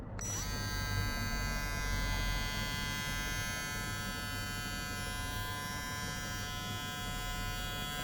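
A Kemei KM 1863 electric clipper starts up and runs with a steady, close, bright motor buzz that holds constant to the end.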